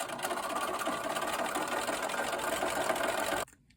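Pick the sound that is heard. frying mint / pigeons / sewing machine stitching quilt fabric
sewing machine stitching quilt fabric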